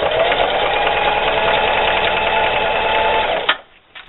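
A sewing machine runs a fast, steady zigzag stitch over a patch on jeans, loud and close, whirring evenly for about three and a half seconds before stopping abruptly.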